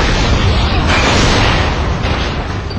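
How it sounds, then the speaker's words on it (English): A massive explosion in SpyHunter Nowhere To Run, set off with plastic explosive on a gate, roars loud and continuous as a dense, sustained blast that fills the whole moment without letting up. "Massive explosion. Michael Bay style."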